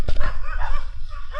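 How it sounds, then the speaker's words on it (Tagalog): Several dogs bark and yip close by on an evening street near a beach, with whiny, overlapping calls and a low rumble of wind or rolling wheels underneath. "Ang daming aso."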